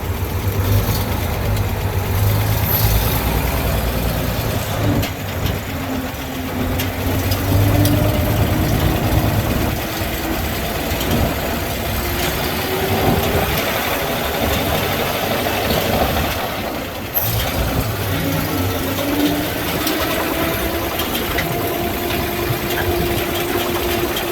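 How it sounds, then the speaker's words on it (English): A truck engine drones steadily from inside a loud, boxy cab, a constant low rumble with shifting pitch as the throttle changes, continuous and close throughout. "Sure is noisy inside this cab. Like riding inside of a 55-gallon drum."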